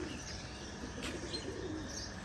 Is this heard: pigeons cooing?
yes